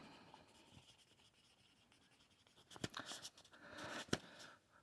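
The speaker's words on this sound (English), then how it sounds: "Writing." Pen writing on paper, faint scratchy strokes at first, then busier and louder bursts of scribbling toward the end in a quiet room.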